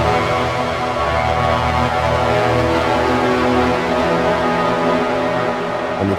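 Dark ambient synth pad from the Steampipe synth's Scariest preset, a dense, sustained drone that holds at a steady level without any break or voice.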